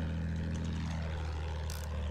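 Propeller warplane droning overhead in the World War I shooter Battlefield 1, a steady loud engine roar held throughout with no talk.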